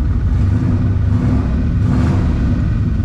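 A parked drag-race hot rod's engine revs loudly and continuously up close, a steady rumbling roar that swells slightly mid-clip with no voices.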